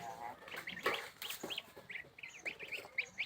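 Geese and goslings feed beside their mother, giving short repeated high peeps and soft honks close by, with faint voices in the background.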